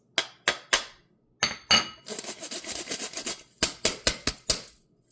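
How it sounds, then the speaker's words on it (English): Dry muffin ingredients for orange cranberry muffins are tipped into a bowl of wet ingredients, giving a run of sharp clinks and knocks against the bowl, then a soft rushing pour, then more quick taps. "Let's just get all that dry ingredients into our wet ingredients. And you add it all at once."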